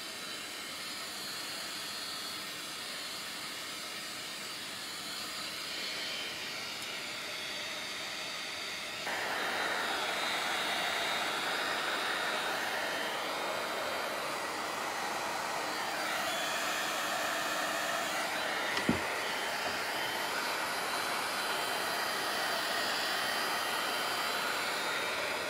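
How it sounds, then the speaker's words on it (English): Heat tool blowing hot air over alcohol inks during card making, a constant breathy whoosh that steps up louder partway through and holds steady, no talk. "you can see that the heat tool is moving around the colour as well"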